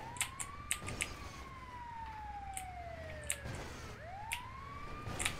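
An ambulance siren wails in long rising and falling sweeps, moderately distant and fairly quiet, with a few sharp clicks and knocks over a low rumble of outdoor background noise.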